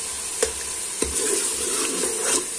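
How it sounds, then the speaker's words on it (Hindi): Onion masala frying in oil in a pan, with a steady close sizzle and a few sharp stirring knocks spread over a couple of seconds, with no voices. "मैंने ऑयल ऐड कर दिया इसमें। 4-5 मिनट में इसको फ्राई करूंगी।"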